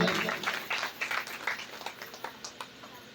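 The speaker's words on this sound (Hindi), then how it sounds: "एक बार जोर से प्रेम से ताली बजाकर स्वागत कीजिए" An audience claps to welcome donors at a Hindu devotional storytelling gathering: a burst of many hands at once that thins into scattered, uneven claps and dies away.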